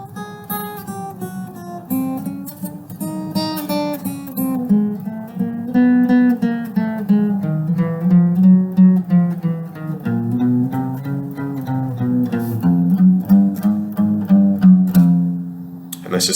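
A guitar works slowly through a four-finger fretting exercise, single notes stepping steadily up and down the neck, played close and clear with no talking over it.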